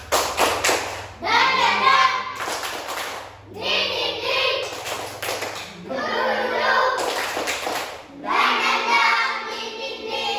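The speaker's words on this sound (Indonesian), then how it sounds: "ayo kita sama-sama tepuk semangat" A group doing a 'tepuk semangat' spirit clap, several bursts of rhythmic clapping and loud group chanting separated by brief pauses, energetic and close, with voices throughout.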